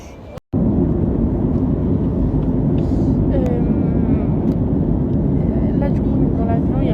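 Airliner cabin in flight, a loud constant roar and rumble of engine and air noise filling the space after a brief gap at the start, with faint voices in the background.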